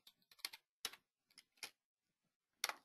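A computer keyboard is typed on in short, irregular bursts of crisp, close clicks with pauses between words, quiet and alone.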